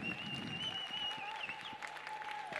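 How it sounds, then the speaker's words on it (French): An audience applauds the three finalists at a competition final, steady clapping with a sustained tone and light crowd murmur running underneath throughout. "on peut les applaudir"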